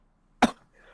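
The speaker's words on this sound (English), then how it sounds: "I was coughing" A single short, sharp cough from a person, loud and close, stands out against near-silence.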